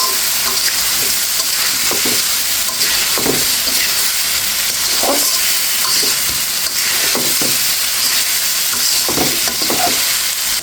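Fried snakehead fish being sautéed in spiced oil in a pan, a constant loud sizzle with periodic scraping strokes of a spatula stirring through it, close by and without speech.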